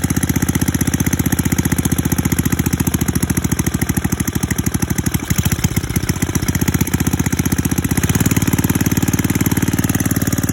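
A snow blower engine that has just been started runs steadily up close with a loud, rapid, even chugging and a slight wavering in the middle, and no voices over it.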